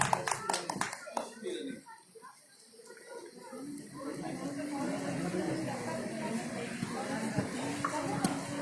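At a Holi festival gathering, a burst of sharp clapping opens, then fades into a murmuring crowd and voices as the audience welcomes performers, with a few stray claps later.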